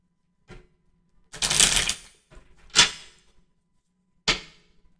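Tarot cards being shuffled by hand, several quick papery riffling bursts separated by brief pauses, one longer rustle near the start.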